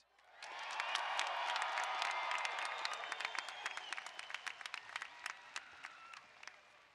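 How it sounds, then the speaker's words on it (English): A large commencement crowd at a College of Engineering graduation applauds and cheers the graduates, a dense sustained wash of clapping with whoops that gradually thins into scattered individual claps toward the end. "Let's give them another big round of applause."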